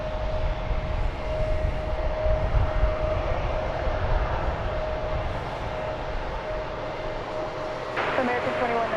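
A jet airliner at DFW Airport roars steadily from a moderate distance, with a broad engine rumble and a high whine that continues throughout.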